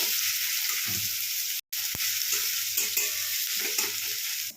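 Chili and onion fry in hot oil for Maggi noodles, a steady close sizzle broken by soft rhythmic stirring scrapes and one brief silent gap.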